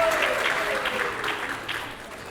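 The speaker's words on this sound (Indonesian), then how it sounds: "Beri tepuk tangan dulu." Applause from an audience at a teachers' retreat session welcoming a guest professor, a burst of clapping that is loudest at the start and gradually thins, with a voice speaking briefly under it.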